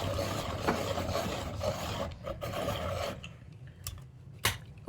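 A medium charcoal pencil being sharpened, giving close, steady rasping scrapes for about three seconds, then a few short separate scrapes and clicks with quieter gaps between them.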